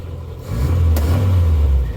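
Ratrod Morris Minor engine running, a close, loud, low steady rumble that swells after a brief quieter start and holds an even idle, with no talking.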